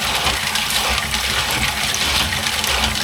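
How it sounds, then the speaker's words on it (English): Tap water gushes steadily into a container of pistachio shells being rinsed clean of salt and seasoning, a loud, continuous close-up rush with no talking. "And then fill it up again, stirring to get all of the dirt off."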